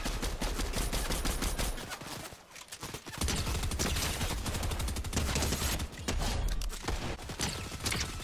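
Rapid, dense video-game gunfire from a Fortnite match, with continuous bursts of shots crowding the whole stretch and a brief lull partway through.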